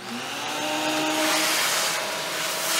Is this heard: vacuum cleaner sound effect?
yes